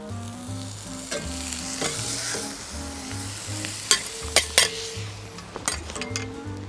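A cauliflower steak sizzles in a hot pan with a steady close-up frying hiss, broken by several sharp clinks and scrapes of utensils against the pan.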